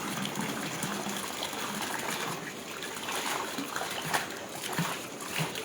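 Water gushing and splashing steadily into a fish tank holding Chaon fish broodstock, a continuous moderate pour with trickling and splatter, steady throughout.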